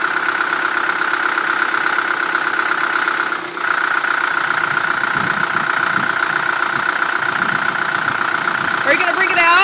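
A diesel engine on an International TD-6 crawler tractor idles steadily with a constant droning hum and faint knocking, close by, while quiet voices murmur underneath.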